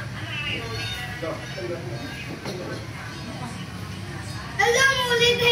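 A cat meows in a house while people chat and a voice is heard; the loud, clear meows rise near the end above the talk.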